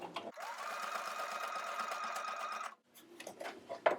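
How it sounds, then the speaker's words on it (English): A sewing machine stitches a zigzag on scrap fabric, running in one steady, whirring burst of a little over two seconds, close and fairly quiet, followed by faint handling noise. "I'm just testing on a scrap piece of fabric to see the width and length of my zigzag stitch"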